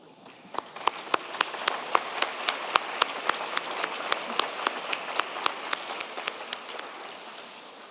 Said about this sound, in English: can y'all please stand and give a round of applause to the audience who are here to celebrate this milestone with us